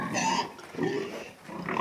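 Pigs grunt in a straw-bedded pen, a few low snuffling grunts in quick succession close at hand, with no speech over them.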